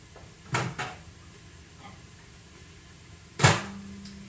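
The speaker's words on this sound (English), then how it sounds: "I'm going to grab my broth real quick out of the microwave." Two quick clunks of a microwave door, followed after a pause by a louder latch click and thud, close by in a quiet home kitchen during cooking.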